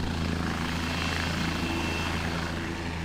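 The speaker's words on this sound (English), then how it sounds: "The senator and other officials later took advantage of a helicopter to strap in and see the fires from the best vantage point." A helicopter flies over wildfires burning timberland in Southeast Georgia, its rotor thumping and engine whining in a loud, constant drone heard from on board.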